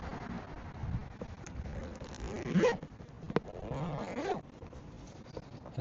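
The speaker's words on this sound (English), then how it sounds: "the zipper slides about dramatically better" The zipper of an RTIC Ultra Tough backpack cooler, lubricated with silicone, is run in two long, smooth zipping pulls with a short click between them, close and faint.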